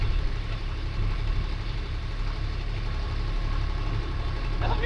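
Small lawn mower engine running at a steady idle, a continuous low chugging drone with a faint whine, close by and fairly even throughout.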